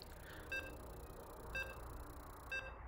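Loading beeps from the StarCraft II video game sound as three evenly spaced short electronic beeps about a second apart, over a constant background hiss with no talking.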